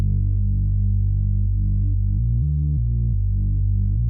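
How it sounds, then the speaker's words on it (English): Simple out-of-the-box Serum synthesizer bass preset from WA Production in a dance track, a deep, steady low-end drone that shifts between a few sustained notes with no talk. "What I did with the bass is it's a Serum preset. It's from WA Production as well,"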